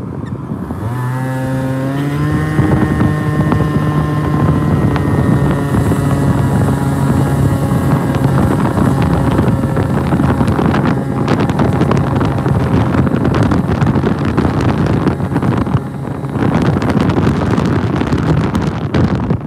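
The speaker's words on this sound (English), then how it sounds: "So I figured I'd just run on the moped real fast." A small moped engine revs up and drones steadily while riding, with heavy wind buffeting the microphone throughout.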